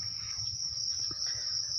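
Young crickets chirp inside a rearing box, a continuous high, steady trill that runs unbroken through the moment, with faint low rustling underneath.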